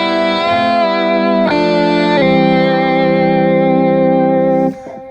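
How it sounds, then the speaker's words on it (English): Electric guitar run through a Deacy plugin adding a two-part harmony, hosted in GigPerformer: loud, thick sustained lead notes with a layered harmonized tone, a few note changes, then a sudden stop. "I have the Deacy going into it, and it's creating a two-part harmony to go with my original sound."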